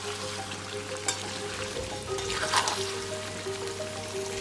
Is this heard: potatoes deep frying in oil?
yes